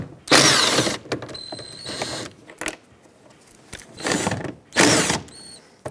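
A ratchet loosens 10 mm bolts on the door panel of a 2007-2014 Chevrolet Silverado 2500HD, with loud bursts of rapid clicking between quieter pauses and light metallic handling, close by.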